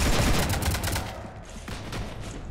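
Sustained gunfire in Mass Effect 3 as a ship is shot up, a loud dense volley of rapid shots at the start that thins out, then flares again with scattered reports.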